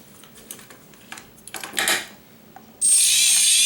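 A few scattered mechanical clicks and rattles come first. Then a quadcopter motor driven through its ESC abruptly spins up into a loud, steady high-pitched whir that continues to the end.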